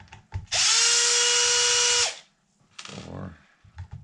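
A power drill runs close up, driving screws on an RC truck's paddle tire for a Losi DBXLE 2.0. It gives one long loud whir, then a shorter burst, with light handling clicks in between.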